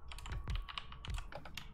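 Fingers tap quickly on a computer keyboard during a multiplayer game session, producing short bursts of close, quiet clicks in an uneven rhythm.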